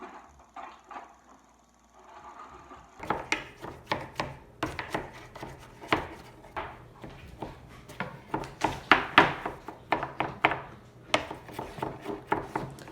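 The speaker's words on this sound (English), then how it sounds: "We have 3 people chopping this up." Kitchen knife chopping zucchini on a board, several people cutting at once while preparing zucchini bread; after a quieter start, irregular crisp chops come thick and fast for about ten seconds, close and fairly loud.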